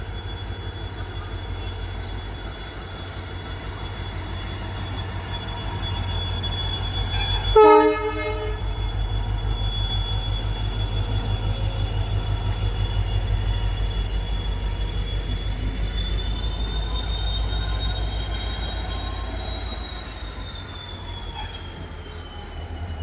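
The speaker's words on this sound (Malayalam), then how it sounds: "ഒരു W D P four D diesel lock അതൊരു എം ടി റേക്ക് ഇത് ഷണ്ട് ചെയ്ത് യാർഡിലേക്കോ മറ്റോ കൊണ്ടുപോയിക്കൊണ്ടിരിക്കുകയാണ്" A WDP4D diesel locomotive shunts an empty rake at Madurai station, its engine droning low and steady for over twenty seconds, with a brief horn blast early on and wheel squeal rising later.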